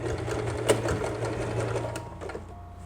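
Sewing machine running a steady stitch along an apron seam, including a brief backstitch, close and continuous with a low mechanical hum and a few clicks near the end.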